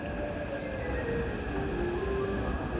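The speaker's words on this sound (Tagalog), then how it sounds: "Kararating lang ng MRT." An MRT metro train pulls into a station with a steady loud rumble and rising and falling wheel squeals, close by and continuous, with no voices over it.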